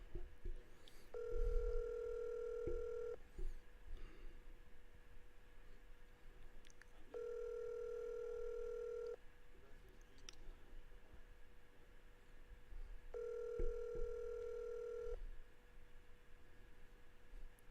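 Telephone line tones while a call is placed: a steady tone sounds three times in long, evenly spaced bursts with quiet gaps between, close and clear, with faint background hiss.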